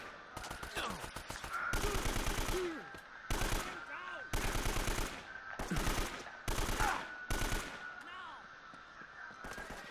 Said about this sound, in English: why am I getting shot at from nowhere?